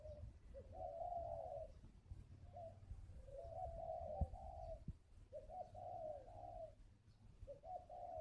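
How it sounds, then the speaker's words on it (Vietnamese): Spotted dove cooing in a cage, its soft low coos coming in repeated rolling phrases about every two seconds, steady and fairly close against a faint background hum. "Vừa gù xong đấy các bác."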